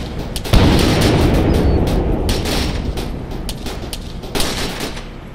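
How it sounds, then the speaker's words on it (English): Heavy battlefield fire in ARMA 3 during a large co-op operation, with a loud blast followed by a sustained rumble of gunfire and scattered cracks, and another burst near the end. "There's a lot of RPG fire coming in from that area."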